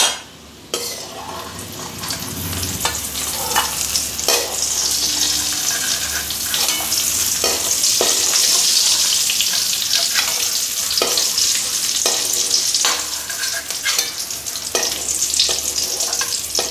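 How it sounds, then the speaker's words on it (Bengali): Grated coconut frying in oil in a pan gives a dense, continuous sizzle, punctuated by repeated scraping and stirring strokes, close and fairly loud throughout. "নারকেল খুব সুন্দর ভাজা হয়ে গেছে, খুব সুন্দর গন্ধ বেরোচ্ছে"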